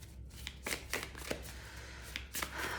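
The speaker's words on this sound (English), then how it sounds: "I can shuffle like this actually" Tarot cards are shuffled by hand, a series of soft close riffling and flicking bursts at an uneven rhythm over a low steady background rumble, with no talking.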